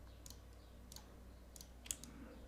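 Small mouse clicks during image editing, a few sharp, faint, isolated ticks spaced irregularly over a quiet background hum.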